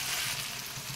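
Capsicum and tomato frying with pointed gourd seeds in a pan, giving one continuous close sizzling hiss with no speech.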